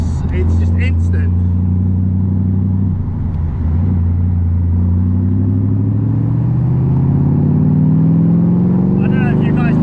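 A Gardner Douglas Cobra's engine drones loud and close while driving, a deep steady rumble rising in pitch as it accelerates, with a voice talking over it.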